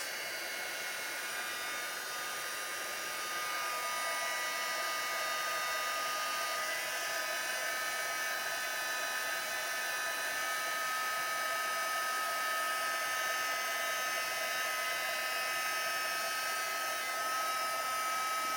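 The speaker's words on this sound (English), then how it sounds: "Get my heat tool." A steady, loud blowing whir of a heat embossing tool running continuously, with a high-pitched motor whine and no pauses.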